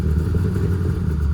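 Hard-to-tune engine that barely runs is held alive on the throttle, giving a loud, rough, uneven low rumble that continues without a break.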